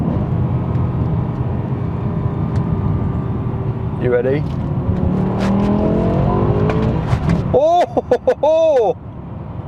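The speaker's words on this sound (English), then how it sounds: "listen to the downshift, it's going to go for 2nd" A V10 BMW M6 downshifts into second gear and accelerates, the engine rumbling and then rising in pitch up close, while a voice speaks and exclaims over it.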